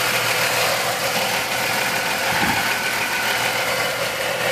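A 2005 Jeep Liberty's 3.7 liter V6 engine idles steadily up close under the open hood, a continuous even running hum with no talk.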